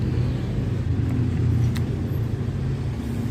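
Road traffic on a through road in Binjai, Indonesia roars steadily nearby as vehicles rush past at speed, a dense continuous wash of engine and tire noise.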